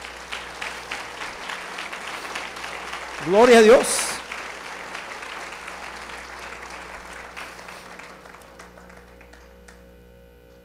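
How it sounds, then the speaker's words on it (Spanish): A short burst of applause from a church congregation rises briefly amid a preacher's Spanish sermon, then fades as he keeps talking over a steady hum. "dale un aplauso al Señor por eso"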